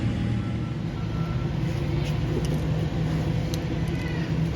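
Garbage truck idling and maneuvering in an alley, a steady loud low engine rumble with faint intermittent high beeps, close by and continuous.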